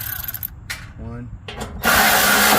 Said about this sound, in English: first thing you're going to do is take out the 3 8mm screws